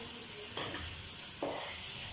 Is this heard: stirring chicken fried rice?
yes